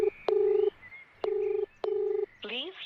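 Telephone dialing tones when calling Kumar again: three identical steady two-tone beeps, each about half a second with short gaps between them, then a brief rising warble at the end, heard clearly with no talking.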